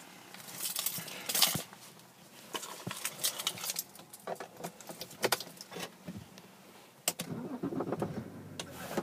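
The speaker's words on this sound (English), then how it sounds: "no problem starting the car" A BMW 530d Touring M Sport diesel car being started, with jangling keys, clicks and knocks from inside the cabin, and a brief cranking burst as the engine catches, fairly close and uneven.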